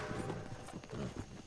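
Horse hooves clip-clop in the video game Red Dead Redemption 2, a brisk rhythmic run of close, muffled clops over a dense game soundscape.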